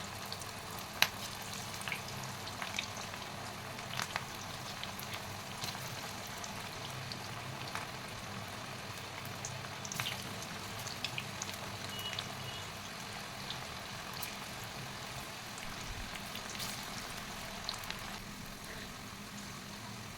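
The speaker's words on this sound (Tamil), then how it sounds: "இப்போ எண்ணெய் சூடானதுமே கொஞ்சம் பக்கோடாவை கொஞ்சம் கொஞ்சமாக உங்களுக்கு எந்த சைஸில் வேணுமோ அந்த சைஸில் நீங்கள் போட்டுக்கலாம் எண்ணெயில்." Cabbage pakoda frying in hot oil, a steady close sizzle and bubbling that runs evenly throughout with no talk.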